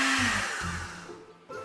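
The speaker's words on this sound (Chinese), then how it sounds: "把切块的菠萝倒到破壁机里面，加入100毫升的水" A high-speed blender whirs through pineapple chunks with water, its loud, close motor whine pulsing in short surges, then winding down toward the end before a brief restart.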